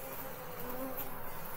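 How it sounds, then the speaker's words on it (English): A dragonfly's steady buzzing drone, close and fairly loud, holding evenly for under two seconds with no voices. "Dragonfly."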